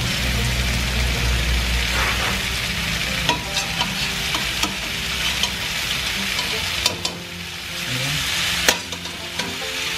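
Chunks of goat rib meat frying for Filipino caldereta, a steady loud sizzle in a hot pan with repeated scraping and clinking of stirring throughout, no talking.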